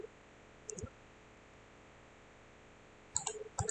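A computer mouse clicks a few times during PCB design work in KiCad: one click early, then a quick pair near the end, crisp and close against faint background hiss.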